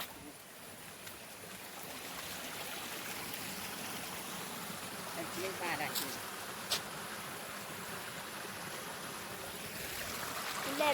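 A small stream flows nearby in a rural area, a steady soft rushing and trickling wash that holds constant at low volume with no one talking.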